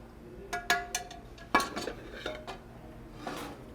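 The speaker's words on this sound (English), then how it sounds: "So we're going to drain this into another pan." Brown butter is poured from one pan into another, metal pans clinking and scraping in a series of sharp, close knocks with faint sizzling between them.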